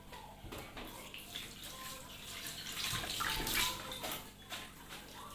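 Food is rinsed under a running kitchen tap, a soft, steady splash of water that swells and fades as it is handled, fairly quiet and close.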